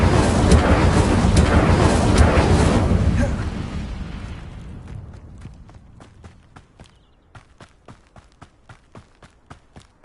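An Incendio fire spell cast in Hogwarts Legacy bursts out as a loud, roaring whoosh that fades over several seconds. Then a run of evenly spaced footsteps sounds alone on a quiet background.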